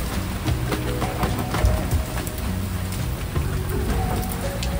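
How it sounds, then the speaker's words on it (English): Heavy rain pours steadily during a rainstorm at Exuma Land and Sea Park in the Bahamas, a dense, continuous hiss of drops drumming on surfaces, close and loud throughout with no talk. "Yeah, it's raining."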